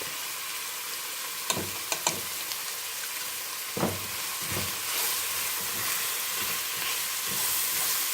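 Onions with turmeric and salt sizzle steadily in a pan over medium heat while a utensil stirs and scrapes, with a few sharp knocks early on and the frying hiss swelling louder toward the end.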